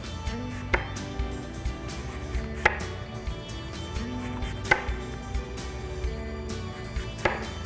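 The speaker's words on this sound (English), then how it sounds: "just slice downward here until you get to the core of the apple" A knife slices downward through an apple into rings on a board, producing a series of crisp, evenly spaced cutting thuds up close with no talk over them.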